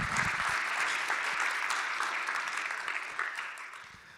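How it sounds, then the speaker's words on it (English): An audience at a small-town pitch event applauds a presenter, a full wash of clapping from a room of people that holds steady and then tapers off near the end. "Folks, a round of applause for Jeremy."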